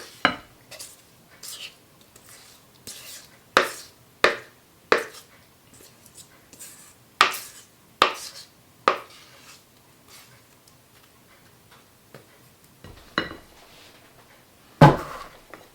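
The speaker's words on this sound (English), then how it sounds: "Now we're going to add our wet ingredients to the dry ingredients." Zucchini muffin batter being combined in a bowl, wet ingredients folded into dry with a utensil: scattered clinks and scrapes against the bowl, close and fairly quiet, with short gaps between strokes and no talking.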